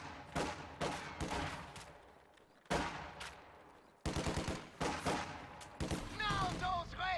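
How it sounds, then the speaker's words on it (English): Long bursts of rapid MG-42 machine gun fire crackle through a real-time strategy battle, broken by brief pauses, with more scattered gunshots mixed in near the end and a voice talking over the shooting. "MG-42 moving up."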